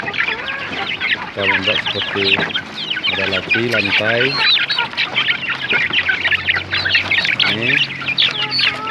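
Chickens clucking near their coop while someone talks over them, with repeated close clucks and calls in a busy farmyard.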